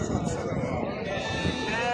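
Lambs bleat at a sheep and goat market, a steady chorus of overlapping animal cries filling the two seconds under a busy background.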